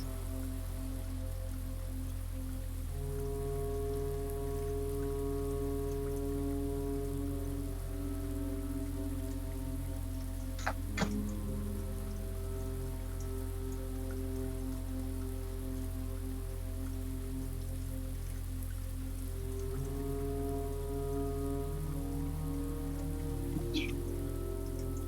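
Steady rain falls in the video game Blue Prince, an even continuous patter filling the background throughout, with a couple of brief sharp clicks partway through and no talking.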